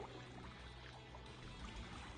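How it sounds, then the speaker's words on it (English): A water bucket emptied in Minecraft, a faint, steady pouring and trickling wash that runs evenly throughout with no talk over it. "And put in our water bucket."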